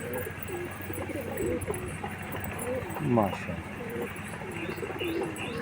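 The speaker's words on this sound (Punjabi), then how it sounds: "ਪਿਓਰ ਇੰਡੀਅਨ ਕਬੂਤਰ ਨੇ ਜਰਾ।" Indian pigeons coo repeatedly at close range, soft rolling calls with a few chirps mixed in, while someone talks over them.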